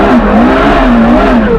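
A Ferrari F40 engine revs loudly and close by, a sustained droning roar whose pitch rises and falls slightly, with no one talking.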